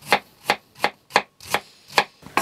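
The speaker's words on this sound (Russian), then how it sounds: "Первая наша задача, это, естественно, нашинковать капусту." Knife shredding a large batch of fresh cabbage for solyanka, seven crisp, evenly spaced chops about every third of a second, close and clear with no talking.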